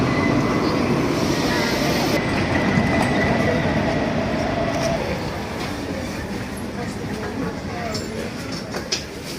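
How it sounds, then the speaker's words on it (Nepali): A train pulls into a station in Europe, its loud rumble and rail clatter filling the foreground before easing slightly in the second half, with voices talking over it. "उताबाट ट्रेन आइरहेको छ"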